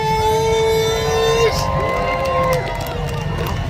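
Loud crowd noise and cheering at a freestyle world championship round under a bridge, a steady roar of many voices with a sustained whistle-like tone, continuous through the moment.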